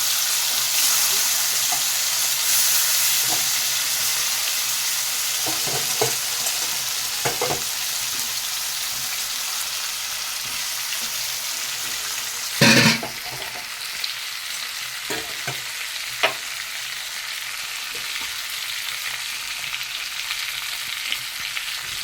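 Catfish pieces fry in hot oil seasoned with cumin and bay leaf, giving a continuous loud sizzle with occasional spatula scrapes and one sharper clatter partway through; no one speaks.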